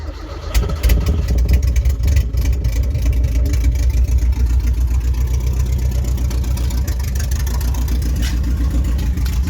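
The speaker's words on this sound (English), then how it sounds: "so the car's in neutral, let's try and start it" A Toyota KE70 Corolla engine fires up while the car sits in neutral, then keeps running with a steady, close, loud rough idle and slight rev variations throughout, with no talking.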